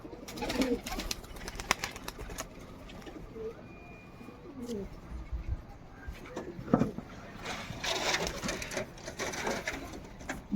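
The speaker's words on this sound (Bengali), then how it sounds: "দেখো আমার টাওয়ারে কবুতরে বসে আছে" Pigeons perched on a rooftop tower coo in low, intermittent murmurs beneath scattered clatter, wingbeat-like bursts and outdoor noise.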